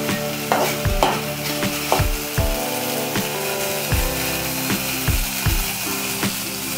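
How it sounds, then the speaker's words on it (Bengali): Raw rice is stirred with a spoon in a hot pan greased with a little ghee, giving close, repeated scraping and rattling strokes at an irregular rhythm over a faint sizzle. "একটু চালটা সামান্য নেড়ে নিতে হবে।"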